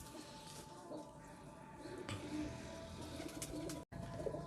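Soft cooing of a soft-boned pigeon amid a busy outdoor wash of chirps and background noise, fairly faint and continuous.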